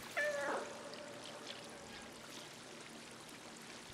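A cat in the video game Stray lets out a single short meow near the start, followed by a soft running-water trickle in the background.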